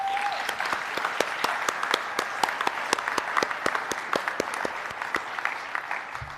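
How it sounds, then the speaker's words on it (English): Steady applause from an audience at a basketball awards presentation, honoring an award winner; dense, even clapping with sharp individual claps standing out throughout, no voices over it. "can we have a round of applause for Fiona?"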